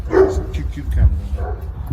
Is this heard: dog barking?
yes